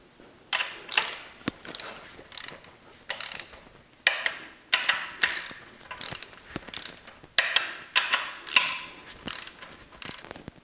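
A hand ratchet tightens the oil pan bolts on a Chrysler 3.2/3.6 Pentastar V6 during an oil pump replacement, producing repeated bursts of rapid clicking strokes with short pauses between bolts, close and fairly loud.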